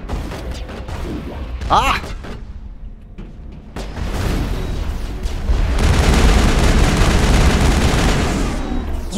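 Sci-fi weapon fire in the game Mass Effect during a fight, bursts of shots and booms that thicken into a sustained noisy barrage in the second half, with a brief voice exclamation.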